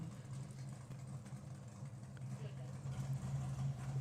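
Drag racing car idling at the start line at a nostalgia drag racing meet, a steady low engine drone with a mid-range rumble that grows slightly louder toward the end, with people talking over it.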